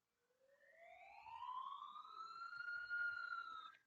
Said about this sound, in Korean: 긴급 사이렌 소리를 한번 들어보기 위해서 플레이 버튼을 터치합니다.